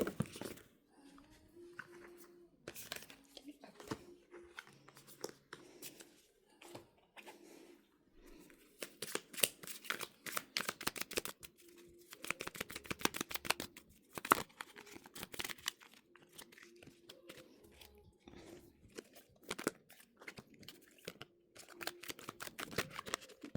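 Tarot cards being shuffled and drawn, close bursts of rapid riffling, flicking and crinkly slaps in irregular clusters separated by brief pauses, with a faint low hum in places.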